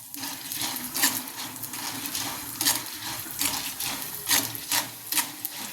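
Chana dal and urad dal roast in hot oil while being stirred: a steady loud sizzle runs throughout with a rhythmic scraping stir rising above it every second or so, and no talking.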